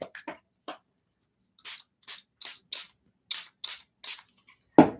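Spray bottle misting water onto dry watercolor paints, a series of about eight short, soft hissing spritzes in steady rhythm, close and fairly quiet, with a few faint taps before and a louder knock at the end.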